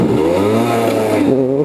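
A small East German 50cc motorcycle engine strains and revs steadily during a rally ride, its pitch climbing and dipping with a sharp drop near the end, loud and close without any voices.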